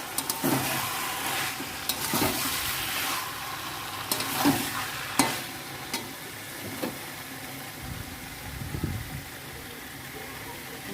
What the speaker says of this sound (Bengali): এবারে এটা মাংসটা ধুয়ে রাখা মাংস দিয়ে দিলাম, দিয়ে একেবারে কষতে হবে।